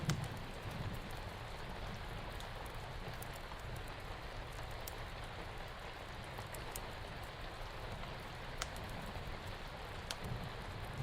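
Steady rain falls in a dense, even hiss with faint scattered drips and patters, continuing unbroken at low volume with no voices.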